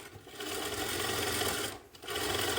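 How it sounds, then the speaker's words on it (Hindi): Sewing machine stitching along a jacket shoulder seam, a steady close whirring run that stops briefly near the end before starting again. "इस पर भी सिलाई लगाऊंगा मैं मार्जिन को पीछे करते हुए"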